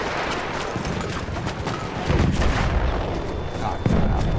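Artillery cannon fire in the Battlefield 1 map They Shall Not Pass, with dense rumbling blasts and booms layered over continuous battlefield noise, growing heavier partway through with a sharp hit near the end.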